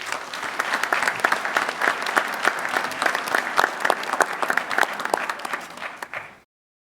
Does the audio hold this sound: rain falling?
no